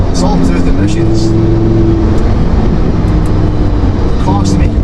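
Naturally aspirated Lamborghini Huracan engine rumbles steadily and loudly with tonal droning pitches, while a person talks over it throughout.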